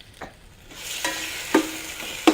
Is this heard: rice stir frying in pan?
yes